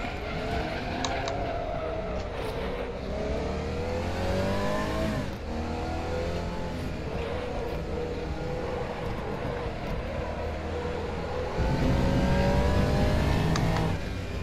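A Porsche 911 race car engine roars in the RaceRoom racing game, revving hard and climbing through the gears with sweeping rises in pitch. It stays loud and close throughout, with a faint voice underneath.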